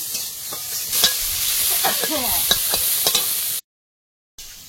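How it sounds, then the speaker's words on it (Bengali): Fresh river prawns fry in a wok with loud, steady sizzling and scraping stirs, ending in a brief silent gap before the sizzle returns. "চিংড়ি ভাজা হয়ে গেছে, উঠিয়ে দিলাম"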